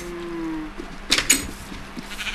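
A cow in the video game Minecraft gives a short low moo. Soft clattering game noises follow, with no talking.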